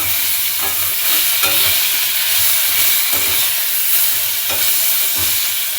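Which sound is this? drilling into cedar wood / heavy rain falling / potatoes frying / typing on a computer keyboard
potatoes frying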